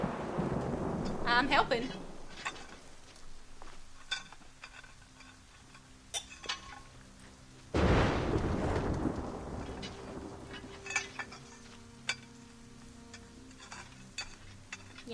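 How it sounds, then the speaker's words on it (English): Thunder rumbles through a stormy night in Assassin's Creed Rogue while men work with lightning rods, with a loud crash partway through and rain-like noise beneath, mixed with game music and a brief spoken line. "Kinda don't feel comfortable that we were holding that lightning rod while all this thunder is going on"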